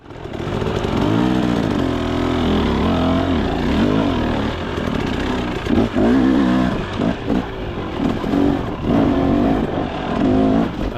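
A 2023 KTM 300XC dirt bike engine revs loudly and continuously on a winter trail, its pitch rising and falling with the throttle blips close up.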